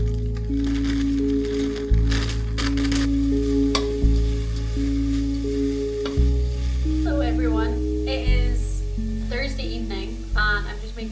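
Noodles and vegetables stir-frying in a pan, a constant close sizzle with scraping stirs and crackles under steady background music, and a voice comes in briefly near the end.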